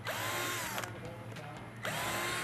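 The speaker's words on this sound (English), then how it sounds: "We have to mount each one where we take a drill" Power drill pre-drilling holes through oak for mounting rattle reels, two sustained whining bursts with a short pause between, loud and close with no voices.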